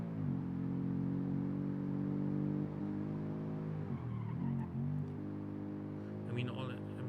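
Car engine fitted with a single straight-through muffler in the driving game BeamNG, a steady droning tone that dips briefly as revs change, with faint tire noise near the end.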